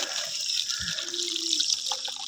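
Water runs steadily inside, a close, continuous gurgling flow like a tap or filling sink, with small drips and trickles over it and no talking.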